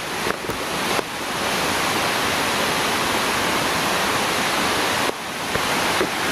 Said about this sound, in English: This is the tallest waterfall in New York.